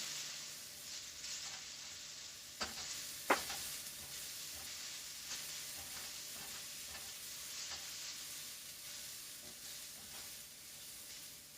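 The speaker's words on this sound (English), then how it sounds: "I just want to kind of let this cook down, because this is a lot of stir fry." A large batch of stir fry cooks down in a pan, giving a steady, soft sizzle and hiss close by, with a few sharper clicks of stirring scattered through it. No one speaks.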